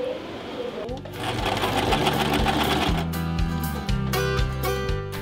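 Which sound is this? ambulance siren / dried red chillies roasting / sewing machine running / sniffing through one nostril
sewing machine running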